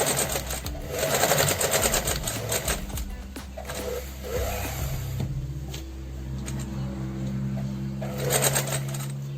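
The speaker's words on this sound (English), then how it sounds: "I'm just gonna go ahead and do a straight stitch right across the point there" A sewing machine runs in short straight-stitch bursts across the corner of a zipper pouch, its motor whirring close and clear between brief pauses and handling noises.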